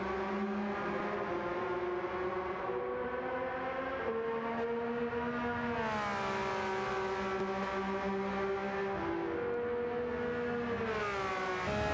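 Group 3 race car in Gran Turismo 7 at Suzuka powering out of a corner in first gear, engine note climbing steadily through the gears with rising pitch, loud and continuous with no talk.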